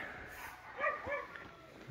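Dog in a village in Moldova giving a few soft yips and whimpers a short distance away, faint over quiet outdoor background.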